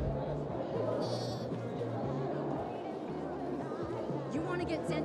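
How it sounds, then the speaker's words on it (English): Goats bleating from a pen in the Dying Light 2 video game, several repeated bleats over a noisy background with faint chatter. "There's a goat pen up there. So they got more goats."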